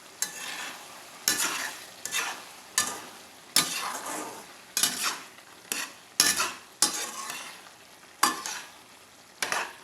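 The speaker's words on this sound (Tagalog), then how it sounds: "Isang halo na lang at tapos na to eh." Ground pork giniling is stirred in a pan, about a dozen sharp scraping strokes of a spatula at a steady rhythm, each followed by a fading sizzle.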